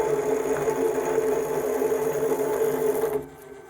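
A grain mill set to about 1.35 to 1.4 mm crushes malt for an American IPA homebrew, giving a loud, steady mechanical whir and grind that cuts off abruptly near the end.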